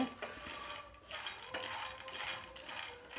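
Finger millet (ragi) dry-roasting in a pan on the stove, grains scraping and rattling against the metal with steady stirring and occasional light clinks, moderately close and without talk.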